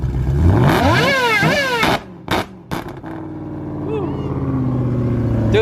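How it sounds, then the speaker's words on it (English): A Ford Mustang GT500 running on E85 sits on launch control, revving hard and bouncing off the limiter with a high supercharger whine. The engine then cuts sharply and settles into a rumbling idle, with voices nearby. "Supercharger was whining like crazy"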